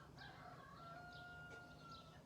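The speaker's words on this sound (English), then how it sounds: "there's a heavy chance you're going to hear the roosters in my neighbor's backyard" Roosters in a neighbor's backyard crow faintly at a distance, a thin drawn-out call over a quiet room hum with no talking.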